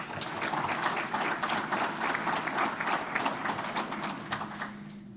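Crowd at an electric cooperative's annual meeting gives a sustained round of applause, dense clapping at a moderate, somewhat distant level that holds steady and eases slightly at the end.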